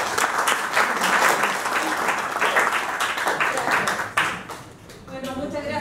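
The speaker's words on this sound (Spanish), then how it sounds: "Un aplauso para ella." An audience at a botanical garden event applauds a presenter being welcomed, a full burst of clapping that tapers off near the end as a voice begins speaking.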